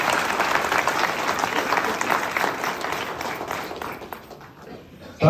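Loud, sustained crowd applause at a political party workers' conference, dense clapping from many hands that holds steady and then fades out near the end.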